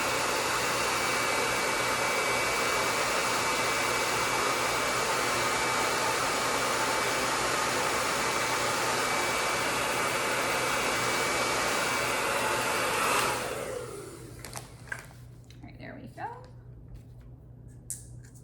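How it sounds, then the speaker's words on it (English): A hair dryer blows continuously at close range over damp craft letters, a loud steady roar that cuts off near the end, leaving quiet handling noises. "if your letters are not dry, you can use a hair dryer to help speed up the process"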